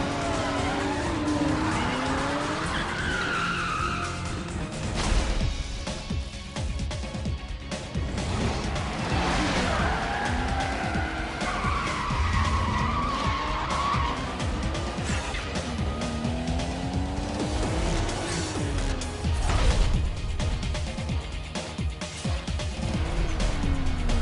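Race cars in the Need for Speed Most Wanted 2005 video game, with repeated tire squeals and skids over engine roar and passing cars, loud and continuous throughout.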